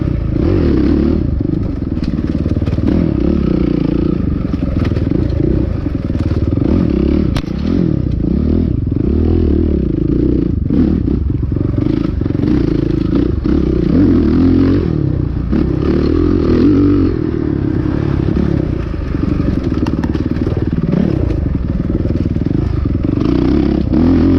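A motocross motorcycle roars continuously while riding a rough, choppy field track up a slight uphill, engine loud and close, with clattering suspension thumps and scrapes throughout.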